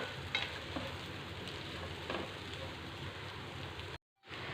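Chopped chapati and egg stirred in a frying pan, a steady close sizzle with scraping stirs throughout, then a brief dropout near the end.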